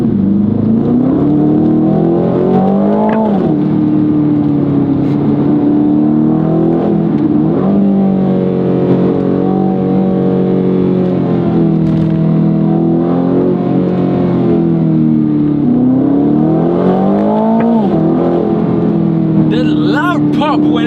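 A 2025 Aston Martin Vantage engine revs up and settles repeatedly with rising and falling harmonic sweeps, loud and close, under a steady interior drone with a short crackle near the end.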